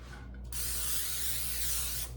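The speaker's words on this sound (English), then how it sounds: "But I'm going to lightly spray it." A short hiss of cooking spray onto a pan, one continuous burst lasting about a second and a half, close and clear.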